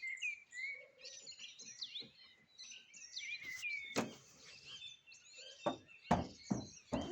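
Several birds sing and chirp on a quiet evening in the Carpathians, with varied whistled phrases and a few sharp nearby knocks toward the end.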